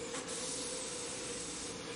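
The Orient Express train rolls on steadily with a dense, continuous rumble and a hissing wash of wheel and rail noise, loud and unbroken throughout, with no voices.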